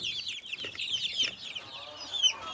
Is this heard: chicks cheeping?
yes